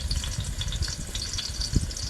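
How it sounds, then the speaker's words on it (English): Garlic cloves sizzle in a frying pan alongside fish in a home kitchen, a steady crackling hiss with small pops, close and continuous throughout. "You hear that sizzle, sizzle, sizzle?"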